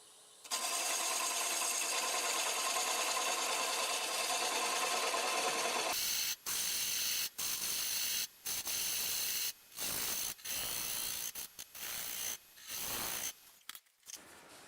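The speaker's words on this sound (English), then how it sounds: "I'm going to start with a 1/2 inch bowl gouge and cut most of it away." A wood lathe spins a cherry plum bowl blank while a 1/2 inch bowl gouge cuts it away: a steady close whirring hum, then a run of gouge cuts in short bursts separated by brief pauses.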